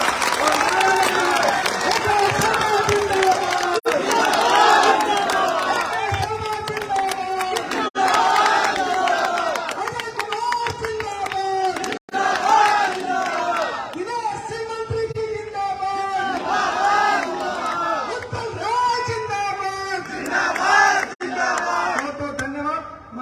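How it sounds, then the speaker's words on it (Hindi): A crowd at a political rally in Mau welcoming a minister, loud sustained applause and cheering with shouts rising in waves over about twenty seconds. "एक बार जोरदार तालियों से स्वागत करिए माननीय मंत्री जी का"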